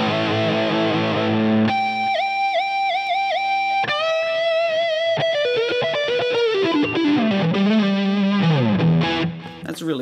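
Electric guitar played through an effects pedal, distorted and chorus-like, with a few strummed chords followed by single-note bends and slides, loud, close and continuous with no voices.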